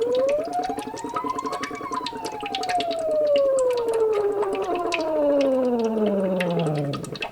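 In a vocal warm-up, a singer's voice imitates a siren, a loud, steady gliding tone that rises slightly then sweeps smoothly downward over several seconds, sung alone without words.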